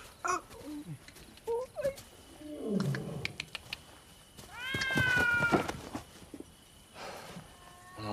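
A domestic cat meows several times in a tense outdoor spot surrounded by wild animals, the cries rising and falling loudly near the middle and fainter toward the end, mixed with other animal noises.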